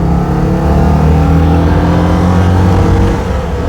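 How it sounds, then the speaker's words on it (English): An ageing Citroën 2CV engine fitted with a race cam roars loudly and continuously under acceleration, heard from inside the car as a harsh, buzzing drone with a slowly shifting pitch. "a lot of the noise is the engine, and especially as this engine is going a bit bad and has a race cam in it, it is not a quiet engine."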